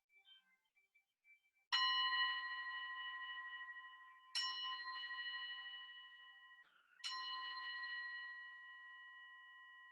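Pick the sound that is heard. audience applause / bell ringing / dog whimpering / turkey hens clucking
bell ringing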